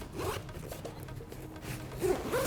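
A weather-sealed camera bag's zipper is drawn open in a steady rasping pull, close and fairly quiet, with a couple of brighter zip strokes near the end and no voices.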